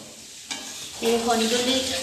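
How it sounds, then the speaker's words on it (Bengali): Papad fries in hot oil at a home Christmas party, starting quietly and then swelling into a loud, steady sizzle and crackle, heard close up. "পাঁপড়টা ভেজে দিই"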